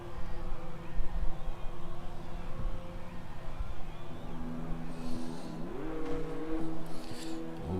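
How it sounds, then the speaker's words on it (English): Race car engines drone and rise in pitch as cars leave the pits at Circuit Paul Ricard, steady loud motor noise with a few sharper revs. "We've got a couple of cars leaving already."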